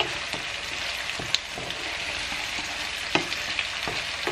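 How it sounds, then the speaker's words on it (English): Onions softening in plenty of oil in a pan, a steady dense sizzle with occasional stirring clicks and scrapes, close and fairly loud, no voices. "So I'm going just to wait for all these onions to soften."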